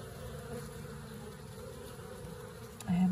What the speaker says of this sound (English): I haven't seen a worker bee come out of the funnel in a while